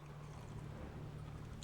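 A boat travels slowly across water in The Witcher 3: Wild Hunt, producing a steady, faint low hum and a soft wash of water with no speech.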